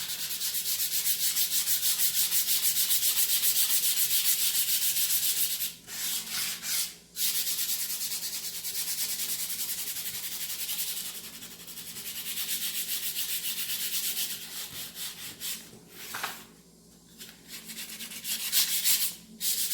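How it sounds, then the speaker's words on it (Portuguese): Sandpaper rubs back and forth in both directions across a painted board in a steady, gritty scraping rhythm, with a few short pauses between strokes. "eu lixo para os dois lados"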